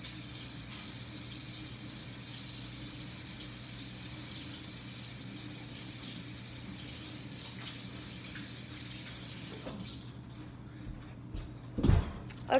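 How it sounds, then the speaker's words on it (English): A water tap runs steadily at a sink for about ten seconds while hands are washed, then shuts off, followed by a few small clunks close by. "I'm gonna go wash my hands."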